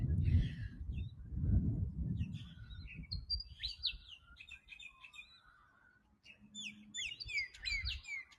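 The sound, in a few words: birds chirping in a tree by a lake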